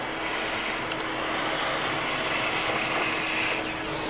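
A Milwaukee M18 FUEL PACKOUT wet/dry vacuum running on its low setting gives a steady, even whooshing drone of suction, close and moderately loud, with no talking.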